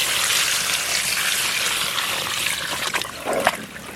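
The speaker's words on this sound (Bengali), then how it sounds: "সবজিটাতে আমরা পরিমাণ মতন জল দিয়ে দেবো।" Water poured from a vessel into vegetables in a cooking pot in a Bengali village kitchen, a steady close trickle and splash running throughout with a brief gush near the end.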